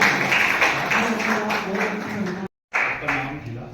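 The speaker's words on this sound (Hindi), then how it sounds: "कम से कम ताली तो अच्छे से बजा ही सकते हैं हम लोग" An audience at a youth dialogue event in a nursing college hostel claps for a correct answer, a dense burst of applause that cuts off abruptly and then resumes briefly, with speech mixed in.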